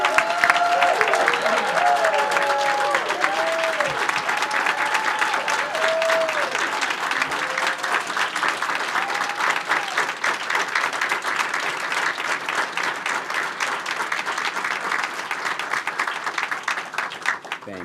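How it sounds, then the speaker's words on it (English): Sustained audience applause fills a large meeting hall at a state board of education session honoring Teachers of the Year, dense steady clapping with a few cheers near the start, holding loud throughout. "please join us in one final round of applause"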